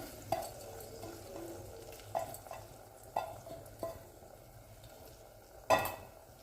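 Basmati rice with salt is stirred in a pressure cooker pot, giving a soft scraping swish with several sharp spoon taps against the metal rim, close and fairly quiet, no talking.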